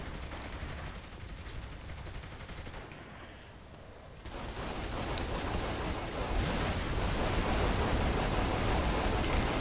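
Sustained gunfire rattles through a Saints Row: The Third shootout, a dense, continuous barrage that dips briefly and then returns louder and heavier.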